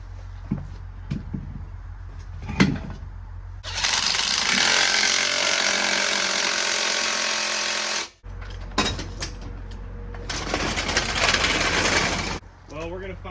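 A tire goes on a 1955 Chevy truck that sat for 23 years, with two long, loud mechanical whirring bursts from a tool close by, separated by brief clicks and knocks.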